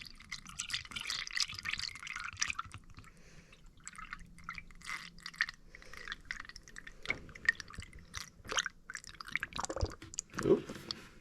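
Coolant trickling and dripping through a small funnel into the cooling system of a 1992 Toyota pickup, soft close splashes and drips with a few louder gurgles near the end, no talking.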